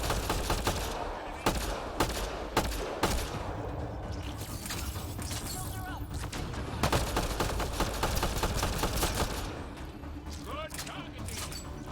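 Rapid gunfire in the video game Mass Effect: Andromeda, with machine-gun bursts and sharp single shots cracking over a steady background din while voices talk.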